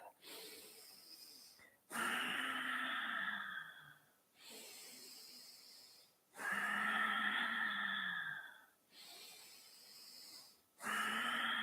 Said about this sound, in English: Exaggerate this deep, deep breath.